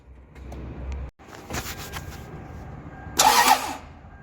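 A Toyota engine with a starter mounted under the intake cranks and tries to start after the battery is reconnected, giving brief mechanical whirring bursts and a louder sputtering surge near the end, fairly quiet overall.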